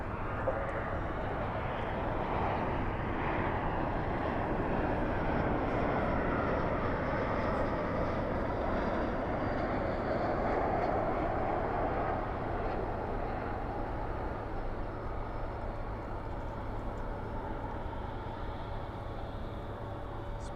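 An airliner lands at night at DFW airport with spoilers up and thrust reversers out, a sustained broad engine roar that swells and slowly eases, heard from a distance.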